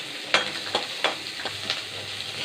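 Small onions (shallots) fry in a pan for mutton kuzhambu, a soft continuous sizzle broken by several sharp scraping strokes of a spoon in the first half.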